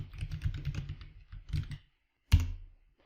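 A computer keyboard is typed on up close in quick bursts of key clicks, a short pause, then one louder thump, with no voices.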